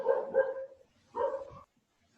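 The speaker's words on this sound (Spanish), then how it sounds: "un perrito" A small dog barks twice, a short burst of yips followed by a second bark after a brief pause, fairly close and alone with no talking.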